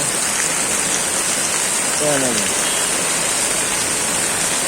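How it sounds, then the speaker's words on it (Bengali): Heavy, continuous monsoon rain pours down, flooding the roads, as a dense, steady roar that holds without a break, with one brief voice-like sound partway through. "এক ঘন্টা দুই ঘন্টা যাবৎ বৃষ্টি পড়তেই আছে পড়তেই আছে"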